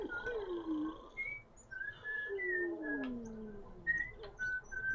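A character in The Sims on PS2 whistles a repetitive little tune: a run of clear, sliding whistled notes, some rising and some falling, moderately quiet against a faint background.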